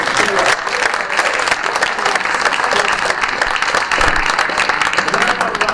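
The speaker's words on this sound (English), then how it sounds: "I want to give you all a great big round of applause" A large audience applauds at an idea challenge awards event, dense sustained clapping filling the room at steady loudness with no pause.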